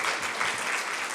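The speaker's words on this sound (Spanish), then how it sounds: "Denle una ofrenda de palmas a Dios." A church congregation claps together in a brief, dense burst of applause, moderately loud and steady throughout.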